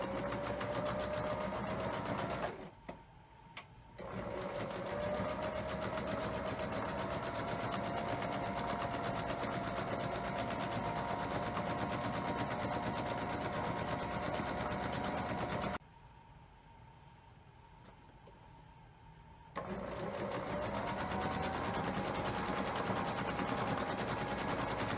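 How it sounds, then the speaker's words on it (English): A sewing machine stitches a quilt border piece onto Dancing Nine Patch blocks with a steady, close, whirring hum, stopping briefly twice before starting up again. "I'm sewing with the border piece down because I don't have any seams there"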